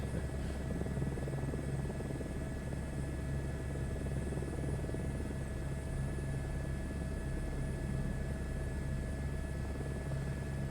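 A helicopter in Microsoft Flight Simulator 2024 flies over tropical Bora Bora, its rotor and turbine drone steady, even and continuous with a faint whine on top, alone without voices.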